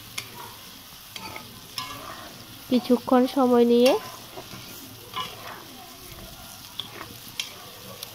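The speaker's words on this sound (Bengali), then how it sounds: "এবার মশলা, আলু, কড়াইশুঁটি সব একসাথে আমি ভালো করে ভেজে নেব" Potatoes, green peas and spices fry together in a pan for a vegetarian Bengali cabbage dish, a low sizzle with stirring scrapes; a brief talking voice stands out midway over the quiet cooking.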